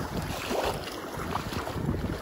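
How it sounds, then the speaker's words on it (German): Steady wind gusting at Tamarells beach in Port de Pollença, Mallorca, a broad rumbling roar with microphone buffeting and a faint wash of surf beneath, continuous and close throughout. "Es windet ein bisschen."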